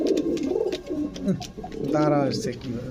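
Pakistani teddy pigeons coo close by, with soft throaty burbling calls and a clear rolling coo near the end, while someone talks over them.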